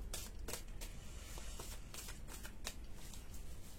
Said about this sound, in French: On fera peut-être, si je peux, une coupe.